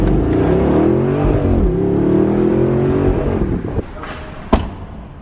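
Audi R8 convertible driving with the top down, its engine loud and close with a rising, falling rev as it accelerates, then easing off, followed by a couple of sharp clicks or knocks near the end.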